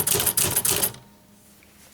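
Rapid Remington Quiet-Riter typewriter keystrokes clatter for about a second, a quick burst of sharp mechanical clicks, then near silence.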